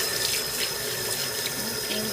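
Hands washed under a running kitchen tap during home bread making, a steady close hiss and splash of flowing water into a sink with slight shifts as the hands move, no talking.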